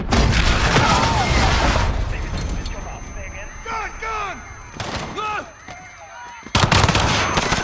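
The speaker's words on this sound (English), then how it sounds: "Shots fired, officers down." Gunfire rings out in the Modern Warfare video game, bursts of shots and booms mixed with shouting voices, dense and loud throughout.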